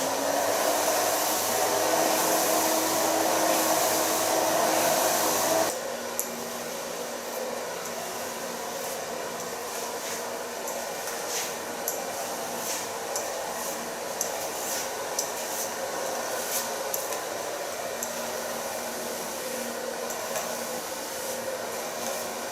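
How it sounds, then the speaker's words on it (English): A handheld hair dryer blows steadily on hair during a silver-gray color treatment; a louder, harsher burst for the first few seconds then settles into a constant near whoosh for the rest. "So now I start blow drying."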